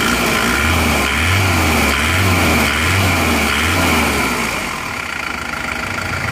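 Turbo diesel engine of an Isuzu Panther running steadily close by, with a low pulsing throb that swells and eases in a few gentle rev cycles before settling, loud and alone with no talk.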